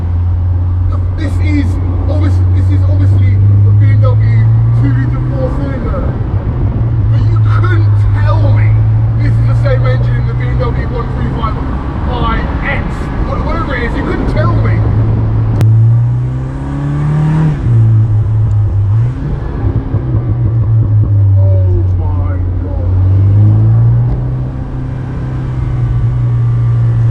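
A Morgan Plus Four with a BMW 2.4-litre engine drives along with a steady low engine drone that rises and falls with throttle changes, while someone talks over it throughout.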